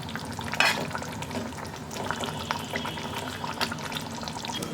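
Pomfret fish is stirred into gravy in a pan, giving a continuous wet sizzle and scraping with a sharp clack near the start, close and moderately loud with no talk.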